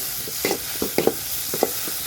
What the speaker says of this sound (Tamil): ஒரு பெரிய வெங்காயம் இது நல்லா பொன்னிறமாக வர வரைக்கும் வறுத்து எடுத்துக்குவோம்